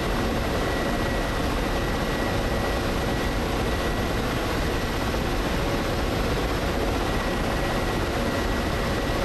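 A Black Shark helicopter flies over Las Vegas in DCS World. Its rotor and engine roar stay loud, dense and unbroken the whole time, with no voices.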